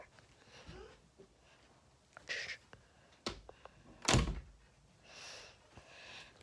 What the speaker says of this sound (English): I gotta just close my door.